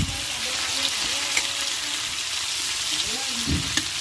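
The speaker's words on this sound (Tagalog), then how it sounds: "igisa-gisa lamang natin ang sibuyas. At ilagay na rin natin ang kamatis." Onion and tomato sautéing in a pan give a steady, faint crackling sizzle, with a few light knocks and scrapes of stirring.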